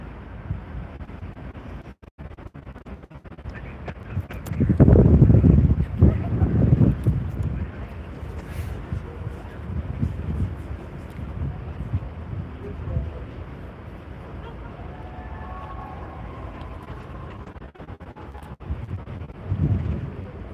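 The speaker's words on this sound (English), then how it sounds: "the wind is really kicking" Strong wind gusting across the microphone at Amsterdam harbour as tugboats work alongside the cruise ship ms Rotterdam, loud buffeting bursts rising and falling over a steady rumble, with someone talking at times.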